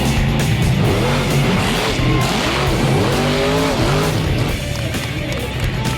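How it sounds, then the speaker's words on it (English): The Bigfoot monster truck, a four-time European champion, performs at a UK Truckfest show. Its loud engine roars continuously while tires squeal and skid in repeated sweeping bursts, with faint voices in the background. "Including four-time European monster truck champion, the UK's very own Bigfoot."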